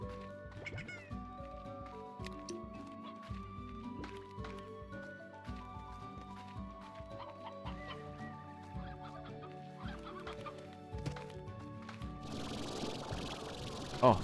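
A hen clucking in the Slime Rancher video game, quiet repeated clucks set against steady tonal game music throughout, with a brief noisy burst near the end.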